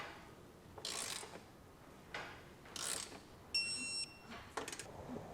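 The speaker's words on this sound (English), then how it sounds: "we'll come back and get the Nerf bars actually torqued now as well" Faint ratcheting bursts from a torque wrench tightening Westin PRO TRAXX oval nerf bar bolts, several short separated strokes with a brief high click near the middle, in a quiet setting with no talk.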